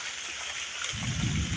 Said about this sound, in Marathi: इकडे बघा पाऊस मोठा धरलाय मस्तपैकी